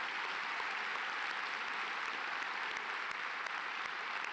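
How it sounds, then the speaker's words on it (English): A graduation audience at Southridge High School gives the seniors a sustained round of applause. Dense, even clapping fills the whole stretch at a steady, moderately distant level, with no voices standing out. "Please give all of our seniors a round of applause."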